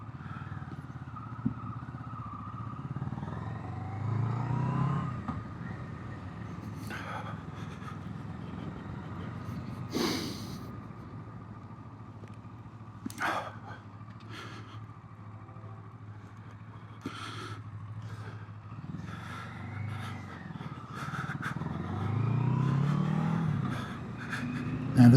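Engine of a 2023 Kawasaki Versys 650 motorcycle with about 2,500 miles runs in a low steady drone, swelling with a few revs at moderate distance, with occasional clicks and handling noises over it.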